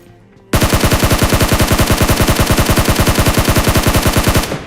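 Automatic gunfire in a mobile battle-royale shooter game, a loud, continuous rapid burst of evenly spaced shots lasting about four seconds after a brief quiet start, with no talk.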